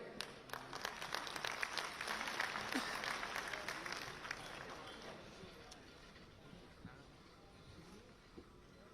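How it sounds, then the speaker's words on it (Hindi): Audience applause at a book launch ceremony at Delhi University welcoming Rajnath Singh, dense clapping that swells and then gradually thins and fades, with voices mixed in. "स्वागत की श्रृंखला में तालियां बजती रहे"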